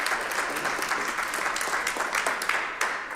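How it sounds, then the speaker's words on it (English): Steady, dense applause from a large audience at a school board meeting, sustained and fairly loud throughout with no voices standing out. "Give yourselves a round of applause."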